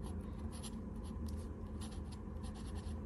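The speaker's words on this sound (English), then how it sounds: "All right, let's go ahead and write." Pen with magenta-violet purple ink writing on paper, a close continuous scratchy glide of short strokes over a steady low background hum, with no talking.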